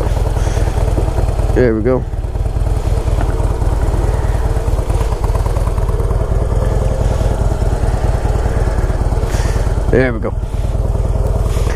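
A Harley-Davidson Heritage Softail idles loud and close, a steady pulsing engine thump throughout, with someone speaking briefly twice over it.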